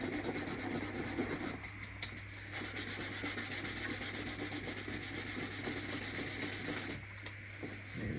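Fine 1200-grit sandpaper rubbed over a boat hull during a tunnel hull repair, giving a continuous rapid scratchy rasp with a steady back-and-forth rhythm and short pauses near two and seven seconds, close and fairly quiet.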